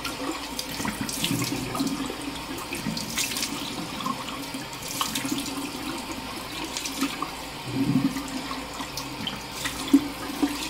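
Cold tap water runs steadily into a sink in a continuous splashing stream, close and even, with small shifts in flow as it hits the basin.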